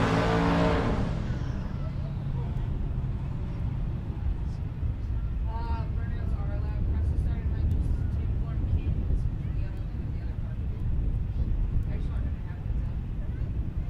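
A twin-turbo LS-powered Dakota launches at a drag strip with a loud, brief roar that quickly fades into a steady background rumble, while an announcer talks over the track noise.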